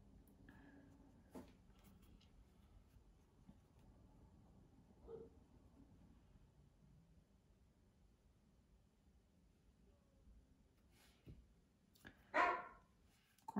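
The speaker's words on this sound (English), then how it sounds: "my dog's barking" A dog barks somewhere in the house, a few faint, distant yaps scattered through quiet room tone, ending with a louder, closer bark near the end.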